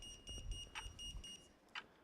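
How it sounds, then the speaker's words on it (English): A door buzzer at Cambridge Court goes off in short repeated electronic bursts with a steady high tone, faint against a low background rumble. "So Cambridge Court's on the buzzer."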